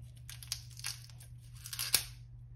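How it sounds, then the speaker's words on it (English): An onion peeled by hand in a kitchen, its dry papery skin giving faint crinkling, tearing crackles in a few short bursts and one sharper snap near the end, heard close over a low background hum. "We're going to peel this onion."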